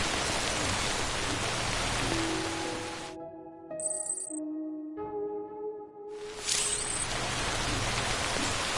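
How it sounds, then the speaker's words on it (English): In the video game Death Stranding Director's Cut, heavy rain pours continuously, drops out briefly to quiet humming tones and a bright chiming note, then resumes at full strength. No voices. "Rain's not letting up."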